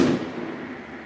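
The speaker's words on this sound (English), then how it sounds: "those fireworks really probably ruined the audio" Fireworks going off during a Fourth of July livestream, a single loud boom at the start trailing off into a fading rumble and crackle, with no voices.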